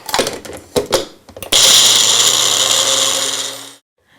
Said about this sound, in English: then we're gonna put it on the blender